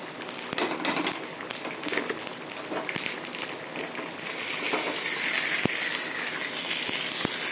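Fried tempering poured into beetroot kootu gives a dense, continuous sizzling hiss, close by, broken by a few sharp clinks of metal.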